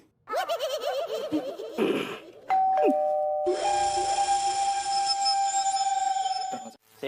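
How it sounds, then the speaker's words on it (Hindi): A doorbell rings in a comedy scene, first a chirpy warbling chime, then a sustained electronic ding-dong tone holding loud and clear for several seconds with no talk over it. "तुम्हें कितनी बार बोला है कि दरवाजे की घंटी ठीक करा लो"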